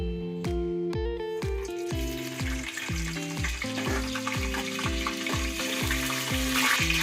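Whole spices sizzle in hot oil and ghee for biryani, with loud crackling frying and a rhythmic series of metallic stirring scrapes and knocks against the pot, close up.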